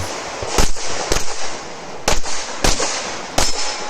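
Pistol shots fired on a USPSA shooting stage while the shooter moves, five sharp loud reports spaced unevenly over a few seconds with a steady outdoor background between them.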